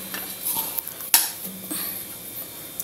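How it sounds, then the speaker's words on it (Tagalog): A spoon stirs a batter of flour and cornstarch for okoy in a bowl, giving soft wet swishes with a few light scraping clinks against the bowl, close and moderately quiet, with no voices. "Mix to ng 1/4 na cornstarch at 1/2 na flour."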